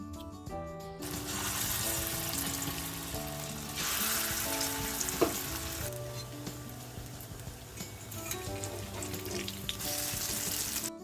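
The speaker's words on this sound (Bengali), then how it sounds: "কড়াইতে সাদা তেল গরম করে হাত দিয়ে ছোট ছোট করে এইভাবে ছেড়ে দিতে হবে তেলের মধ্যে" Loud, continuous sizzling of small hand-dropped fritters frying in hot white oil in a wok, with crackling bursts and faint background music or clatter throughout.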